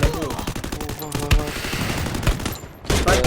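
Rapid video game gunfire in dense bursts, loud and close, with a brief pause near the middle and another near the end before the shots resume.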